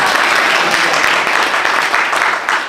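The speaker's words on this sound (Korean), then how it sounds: "다시 한번 박수 한번 해주세요." An audience at an introduction event claps for a company president, producing thick, continuous applause that stays loud and even, with slight swells near the end.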